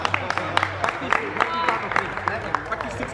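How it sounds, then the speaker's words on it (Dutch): Scattered clapping from onlookers after a card trick, distinct sharp claps mixed with talking voices and crowd murmur, fairly close and uneven in rhythm. "Geef ze een applaus"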